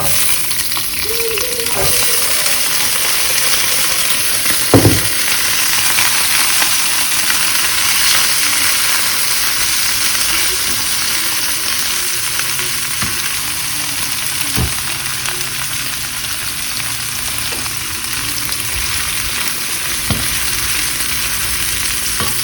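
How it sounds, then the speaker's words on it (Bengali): Chopped onion and garlic fry in a hot pan with a steady, loud sizzle throughout, broken by a few sharp knocks and stirring clatters. "আগে এই পেঁয়াজ রসুনগুলোকে টেলে নিই"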